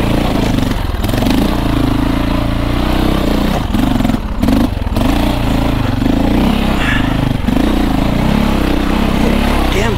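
A KTM 450exc dirt bike rides Triad Ridge single track, its engine droning loud and steady close up with rev swells and a few brief dips in throttle, plus clatter from the rough trail.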